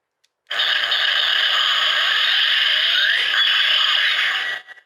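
A DX Trygalon toy from the Ultraman Omega Meteo Kaiju series plays its electronic effect for moving fast and attacking: a dense, bright, sustained rushing blast with sweeping tones, running about four seconds without pause and with no talk.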